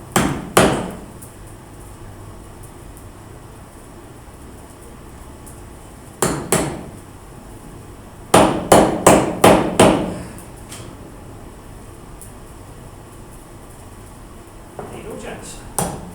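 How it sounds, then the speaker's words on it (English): A leather hammer pounds a twisted blacksmithing workpiece against a block of wood, landing in scattered clusters of two and then a quick run of about five sharp, close blows, with talking in between. "I prefer to use like a leather hammer."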